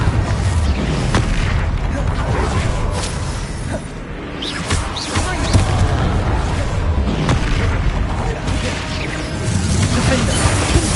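Confringo, a fiery explosion spell in the video game Hogwarts Legacy, booms repeatedly amid whooshing bursts and crashes. The loud, continuous combat noise runs under voices.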